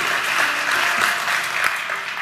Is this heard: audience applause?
yes